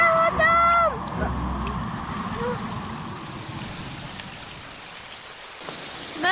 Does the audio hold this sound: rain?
yes